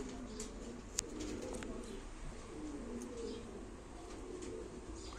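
Pigeons coo low and steadily at a live pigeon auction, soft bubbling calls repeating beneath a constant room murmur, with a sharp click near the start and no clear talking.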